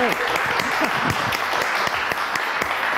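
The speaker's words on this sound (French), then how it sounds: "Et je vous demande d'applaudir très fort Mylène Farmer" Steady applause from a TV studio audience during a French variety show, loud and continuous through the whole stretch, with a voice briefly audible underneath.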